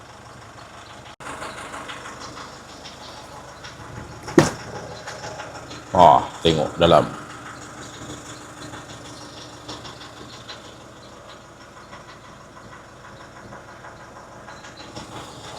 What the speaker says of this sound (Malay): Jadi dia hidup dulu, kita panas enjin dia dulu.